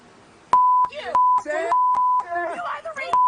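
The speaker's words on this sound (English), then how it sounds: "I hate beeps." Steady tone beeps repeatedly cut over someone talking, four or five bleeps of about a third of a second each, speech poking through between them.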